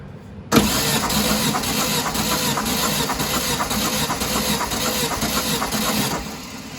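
VW 1800 engine cranking during a compression test, a loud, steady rhythmic churning of the starter turning the engine over for about six seconds before stopping abruptly.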